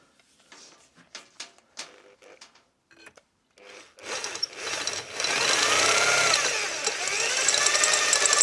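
Scattered taps and scrapes give way to a sustained grinding whir of a sheet metal drill biting a 1/2-inch hole into sheet metal, loud and close.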